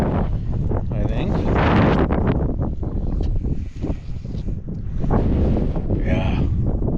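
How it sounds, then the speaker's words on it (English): Strong wind blowing across open farm fields where a crop has come in, heavy buffeting and roaring on the microphone the whole time, with faint voices partly buried beneath it. "wind's still blowing"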